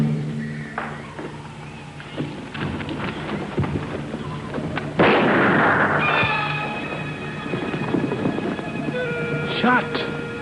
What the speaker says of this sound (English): Shot. It come from back there.